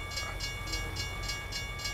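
A train in American Truck Simulator rolls past with a steady rumble and an even, repeating clatter of wheels, sounding close and continuous throughout, with no voices.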